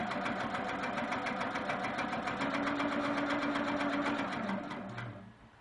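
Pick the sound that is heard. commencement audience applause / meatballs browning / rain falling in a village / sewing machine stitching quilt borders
sewing machine stitching quilt borders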